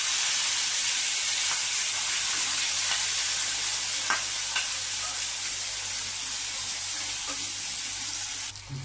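Nut and raisin paste with mustard seeds fries over low to medium heat while being stirred, making a steady broad sizzle with faint scrapes and small pops. It stays close and even, and no one talks over it.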